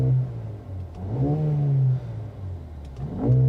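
A Mercedes-AMG GLA 35's 2-liter turbocharged four-cylinder in Sport Plus mode gives a few short, moderate rev blips that rise and fall over a steady idle hum, heard from inside the cabin.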